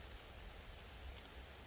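Soft, steady rain falls in a mountain forest, a faint continuous hiss of drops with no voices or other distinct sounds.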